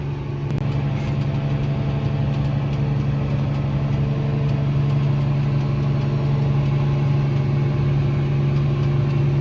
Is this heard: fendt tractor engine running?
yes